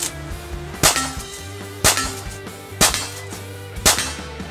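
Four loud, sharp rifle shots from a Rossi Puma lever-action firing .38 Special reloads, spaced about a second apart, each with a short echoing decay and faint mechanical sounds between them; no talking.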